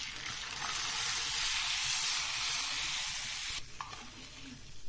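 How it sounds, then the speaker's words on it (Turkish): Butter and chili peppers sizzle loudly in a pan, a steady frying hiss that drops off sharply near the end. "Yağımızın içerisine döktük. Onu birazcık şöyle kızartalım."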